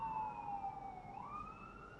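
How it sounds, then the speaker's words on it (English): A distant siren wails, its pitch sliding down and then back up over steady low background noise. "They should start fading rather soon"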